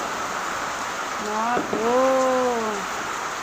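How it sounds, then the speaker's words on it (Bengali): Heavy rain falls in a steady broadband roar throughout, while someone speaks briefly over it. "দেখো কি জোরে বৃষ্টি পড়ছে"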